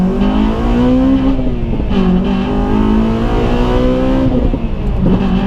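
Induction roar fills the cabin of a Honda Civic EP3 Type R with a Powerflow exhaust, heard from inside with the windows up. The engine drones loud and steady, with revs rising and falling twice and a faint exhaust rattle beneath.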